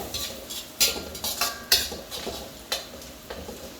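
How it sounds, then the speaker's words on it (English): Sautéing in a pan for a meat-free butter chicken: a soft sizzle under repeated scraping and clinking strokes of a spoon against the pan, close and fairly steady. "Just saute this for a while until you get this nice aroma."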